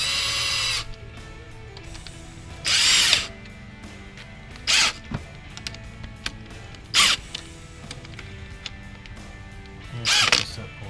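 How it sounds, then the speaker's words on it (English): A power drill drives bolts into an aftermarket direct-injection high-pressure fuel pump on a 2016–2024 Camaro SS or ZL1, sounding in about four short whirring bursts separated by pauses, with light tool handling between them. "And we just gotta screw it."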